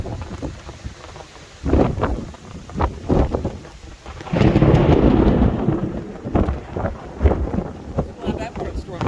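Strong storm at Hyner View State Park, Pennsylvania, with steady rain and wind buffeting the microphone and loud rolling thunder swelling midway, heard from a high overlook.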